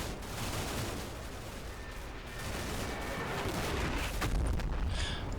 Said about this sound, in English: I think that's an ammunition cook-off